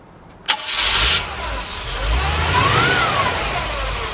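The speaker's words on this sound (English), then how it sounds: "We'll go ahead and fire this one up for you." A 1967 Chevrolet C10 4x4 with a small V8 cranks briefly, catches and settles into a loud, close idle, with a slight rev midway and a steady rumble through the end.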